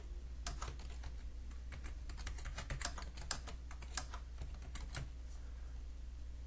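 Computer keyboard keys tapped in a quick, uneven run while text is entered into a plotting program, close and fairly quiet over a low steady hum.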